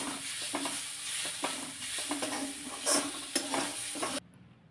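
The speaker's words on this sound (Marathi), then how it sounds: "तेल चांगलं तापलं की लगेचच यामध्ये चिमूटभर हिंग घालायचं, थोडेसे भाजलेले शेंगदाणे घालायचे आणि चांगलं हे परतून घ्यायचं." Roasted peanuts and a pinch of asafoetida are stir-fried in hot oil in a wok, an even sizzle broken by repeated scraping stirs and clacks before it abruptly cuts out near the end.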